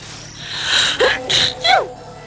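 A person sneezes nearby, a breathy burst with gasping inhales around it, fairly loud against a quiet room.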